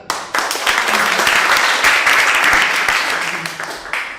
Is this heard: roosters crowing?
no